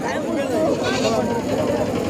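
Young goat kids, two to four weeks old, bleat up close at a goat and sheep market in Sangola, their wavering cries running through the whole moment alongside someone speaking.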